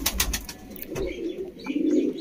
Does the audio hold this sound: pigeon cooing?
yes